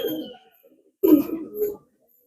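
A pair of domestic pigeons kept by a fancier coo close by in two short, throaty bursts separated by a brief pause, with quiet surroundings.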